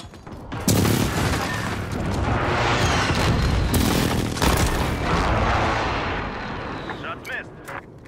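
Airstrike explosions in Modern Warfare (2019) Search and Destroy: loud, heavy booms and broadband blasts rolling through about eight seconds, with sharp impacts near the one-, four- and seven-second marks and game chatter over them.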